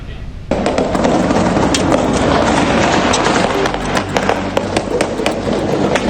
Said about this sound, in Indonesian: Rentetan tembakan terdengar hanya beberapa jam setelah pelantikan Wakil Presiden Delcy Rodriguez